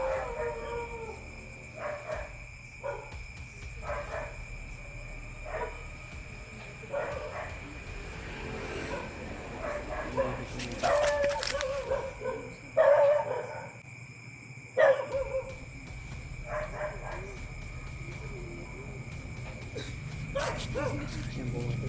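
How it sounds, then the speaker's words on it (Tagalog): Several dogs bark and howl at a distance outdoors in intermittent bursts over a steady background hum, with someone speaking at times. "tumatahol yung mga aso, papasok na dito."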